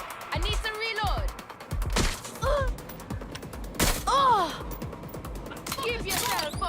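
Gunfire and combat sounds from the video game Watch Dogs Legion, with sharp shots, mechanical clicks and chirping effects over a constant busy game background, plus intermittent character voices.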